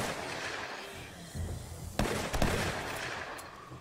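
Rapid shots from a Dragunov sniper rifle in the game 7 Days to Die: several sharp cracks in quick succession, the loudest burst near the middle, over a constant hiss of game background noise.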